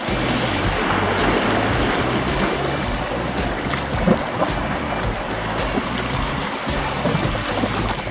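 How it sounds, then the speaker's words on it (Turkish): Sea waves washing against the shore at Mudanya on the Sea of Marmara, a steady broadband surge of water and wash heard alone with some wind, continuous and fairly loud throughout. "Biraz da susup denizi dinleyelim."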